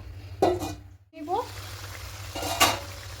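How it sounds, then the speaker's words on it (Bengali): Fish curry gravy for katla kalia bubbles and sizzles in a covered pan, a steady close simmer broken by a couple of short clattering bursts of the lid or spoon. "ঝোলটা ফুটতে শুরু করে দিয়েছে।"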